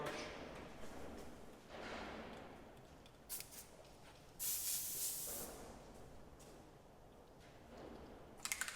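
Airbrush loaded with black paint hissing in several short bursts while detailing a skull design with stencil templates, the loudest blast mid-way, with quieter spray and faint handling noise between.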